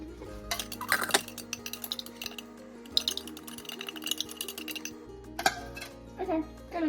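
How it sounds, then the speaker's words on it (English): Metal spoon clinking and scraping inside a pot while making fettuccine Alfredo, a string of sharp clatters and taps at close range with background music and speech underneath. "now I'm just gonna take this spoon and scoop up all the savings we have in here"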